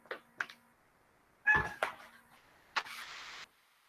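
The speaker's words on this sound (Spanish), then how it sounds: "Tengo un gatito acá que molesta." A small cat meows several times close by, short cries spaced irregularly with a longer drawn-out meow at the end, otherwise in a quiet room with no talking.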